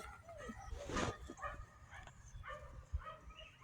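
Young puppies, about five to seven weeks old, yip and whimper close by in a run of short, high, squeaky cries over a quiet background.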